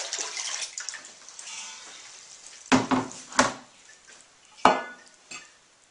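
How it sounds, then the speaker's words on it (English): Water poured into the top of a candle water filter, a few splashing gurgles and sloshes rising out of a quiet room, close and fairly loud. "And then you just pour the water in."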